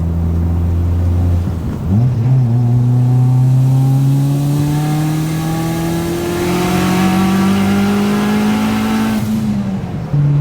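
Turbocharged Mitsubishi Galant with a stock-block engine accelerating hard on a street pull, its loud, close engine note climbing steadily in pitch over several seconds before backing off near the end.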